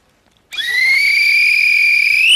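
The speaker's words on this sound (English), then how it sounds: "OK, Sue, you will go on my first whistle." A referee's whistle starts a yoghurt-eating game show contest with one long, loud, steady blast that holds for about two seconds and rises slightly in pitch at the end.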